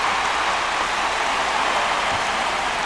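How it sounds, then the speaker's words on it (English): Steady rain pouring in MLB The Show 25 baseball video game, a dense, even hiss filling the whole stretch without pauses. "This rain is not letting up"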